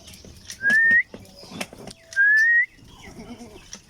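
Goats on a farm bleat twice in long, wavering, nasal calls, close and loud, over a quiet background with a brief soft voice murmuring nearby.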